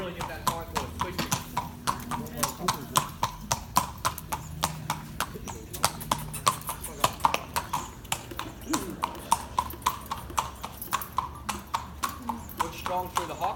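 Hooves of a walking filly clip-clop in a steady, close rhythm on firm ground, with occasional neighing, while someone talks over them throughout.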